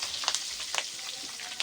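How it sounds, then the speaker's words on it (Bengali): Bitter gourd pieces frying in hot oil in a pan, a steady close sizzle with small crackling pops and bursts, no voices. "উস্তেগুলো ভেজে নেব।"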